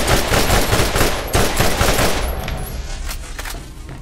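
Rapid automatic gunfire from a first-person shooter, a loud, dense burst of repeated shots that slows and thins toward the end, with no talk over it.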